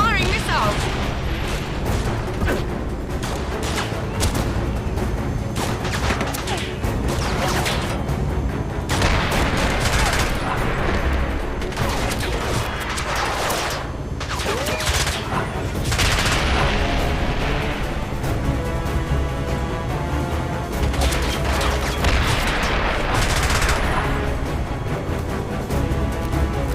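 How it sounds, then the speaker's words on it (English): Missile launches and explosions in the 007 Blood Stone game, a dense barrage of booms and blasts over a busy action soundtrack, loud and continuous, with voices shouting in places. "James, he's firing missiles!"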